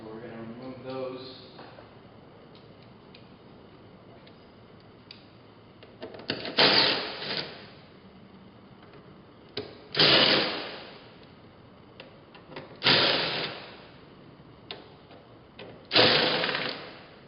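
Socket ratchet or driver work on the T30 Torx bolts under the cowl of a BMW E46, a few separate bursts of clicking and loosening spaced several seconds apart, close by, with quiet stretches between them.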